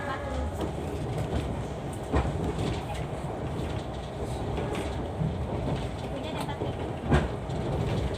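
The Argo Sindoro passenger train rolls through a railway junction, heard from inside the carriage as a steady rumble with recurring clickety-clack wheel beats over the points.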